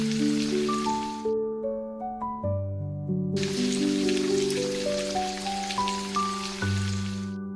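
Steady rain drums on a house roof as a continuous broadband hiss, with a melodic tune of stepped notes playing over it and briefly dropping out mid-way.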